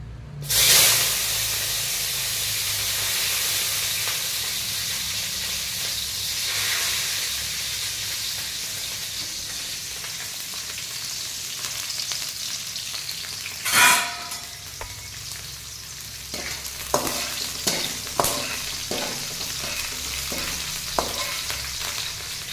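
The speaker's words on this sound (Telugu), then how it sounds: "అది కొంచెం వేగినాక వెంటనే ఇంకా పచ్చిమిర్చి ఉల్లిగడ్డ" Green chillies and onion sizzle steadily in a hot pan for a rice dish made with ajwain and leftover rice, with occasional scraping stirs and a few sharper clinks near the end; no speech.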